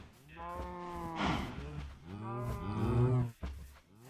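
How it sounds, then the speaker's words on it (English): Several cows in Minecraft moo loudly in succession, long low drawn-out calls overlapping one another, close and clear with no talking. "I want to see what the cow field sounds like in my headset."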